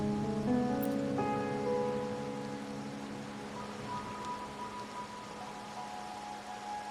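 Rain falls in the video game Wuthering Waves as a soft, steady hiss that continues alone after some fading musical tones at the start.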